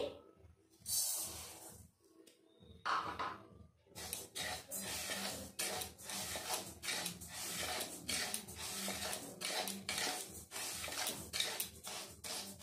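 Sugar being stirred in a kadai for syrup, with repeated scraping and rattling strokes at a close, fairly steady rhythm after a brief pause near the start.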